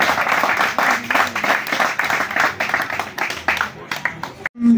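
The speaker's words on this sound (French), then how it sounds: "On applaudit très fort." A crowd at a Union Nationale political rally in a small market claps in rapid, uneven bursts while voices call and chant over it, then stops abruptly.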